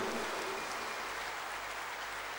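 Audience applause fills the hall in a steady, dense wash of clapping, sustained throughout at moderate level with no talk over it.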